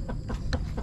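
Chickens clucking in a backyard chicken coop, a few short close clucks in quick succession, fairly soft and alone.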